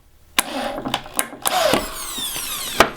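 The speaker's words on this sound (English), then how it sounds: "I think I'm going to drill some more pilot holes into the actual door" Close, loud drilling as a power drill bores pilot holes into a wooden Dutch door for a tiny house. Short bursts are followed by a longer whirring run with a rising motor whine and a final sharp hit.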